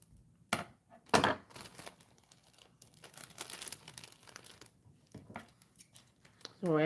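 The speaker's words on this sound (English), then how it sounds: "I'm going to cut my thread." Scissors snipping sewing thread during a hand-stitched Dollar Tree craft, a few sharp crisp cuts near the start and scattered small clicks and rustles, with a person talking over much of it.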